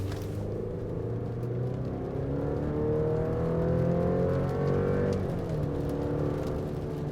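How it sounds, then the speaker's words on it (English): A 2023 GMC Canyon Denali pickup accelerates at full throttle on a wet road, its engine note climbing steadily in a rising drone heard from inside the cab, then easing off near the end as traction control cuts power. "Let's go full throttle."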